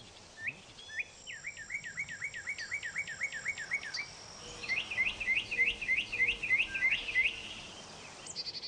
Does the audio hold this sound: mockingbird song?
yes